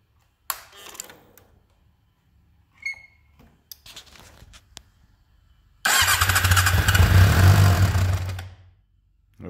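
Suzuki GSXR 600 motorcycle starting up: a few clicks and brief handling noises, then the engine catches and runs loud, steady and close for several seconds before cutting off.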